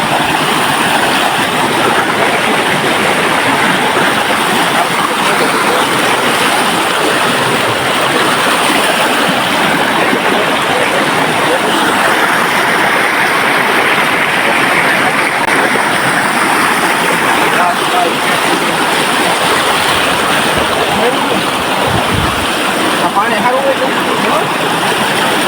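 A stream in Gujarat flowing steadily, a broad continuous rush of water that stays loud and even throughout, with faint voices now and then.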